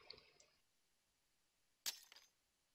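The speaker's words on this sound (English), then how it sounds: "Stained glass window shattered." A stained glass window shatters in the horror game The Witch's House, a single sharp crash of breaking glass with a brief tinkling scatter of shards afterward, set against near silence.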